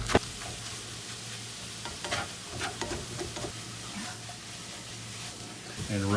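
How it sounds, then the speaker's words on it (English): Eggs are stirred and scrambled in a skillet with steady sizzling, broken by scraping strokes and clinks from the utensil. "stir them fairly constantly until it's this kind of scrambled egg sort of thing"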